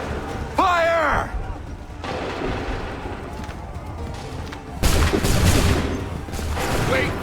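Musket volley in Assassin's Creed III fired on command: a loud crackling burst of many shots near the start, a sustained battle din, then a second heavy volley later, with shouted orders throughout.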